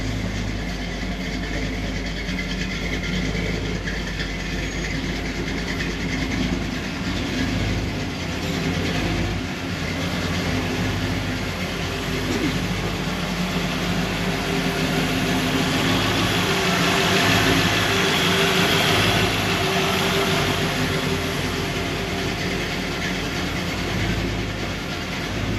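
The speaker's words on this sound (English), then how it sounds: "The car has just been started up." A 1957 Chevy delivery's engine, freshly started, idles in a steady, loud, continuous rumble for the whole stretch, with no voices over it.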